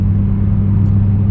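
Ford Mustang GT500 with a Flowmaster Outlaw exhaust, a deep, loud, steady low rumble with strong bass tones, close and continuous without pause.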